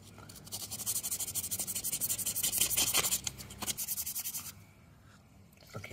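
P1000 sandpaper is worked by hand against the bottom of a copper terminal nut from a Ducati 999S starter solenoid. Quiet, close rhythmic rubbing strokes repeat steadily, then fade out near the end.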